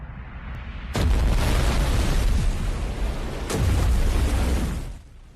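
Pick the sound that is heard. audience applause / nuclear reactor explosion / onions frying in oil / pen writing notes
nuclear reactor explosion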